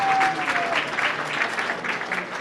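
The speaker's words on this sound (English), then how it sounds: "Give yourselves a round of applause." Audience applause in a performing arts center, steady clapping from a crowd over the whole stretch, moderately loud and unaccompanied by talk.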